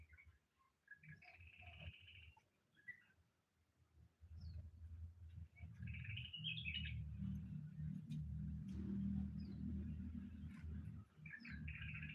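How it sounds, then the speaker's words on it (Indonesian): A Bali starling calls in an aviary, repeated bright chirps and short whistled phrases heard several times over a low, steady hum and some background noise. "Ada burung jalak Bali"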